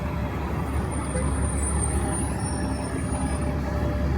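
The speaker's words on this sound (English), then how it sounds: "A lot of buses that take you to various parts of Queens." City buses with air brakes at the Flushing transfer hub in Queens, near the last stop of the 7 line: a steady, loud traffic rumble with high hissing air-brake releases running through the middle, and no talk.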